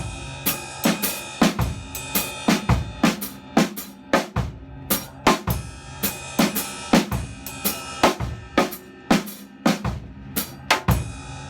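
A drum kit plays a 5/4 pattern with a break driven by the bass drum and feet, crisp snare and cymbal hits in an uneven repeating rhythm, close and alone for about eleven seconds.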